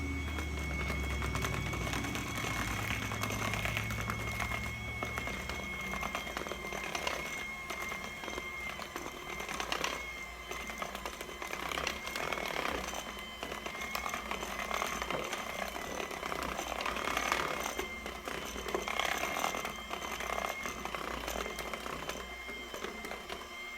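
Sweet potato bread batter being mixed with an electric mixer, a steady, faint motor whir running continuously for over twenty seconds with slight fluctuations and no talking.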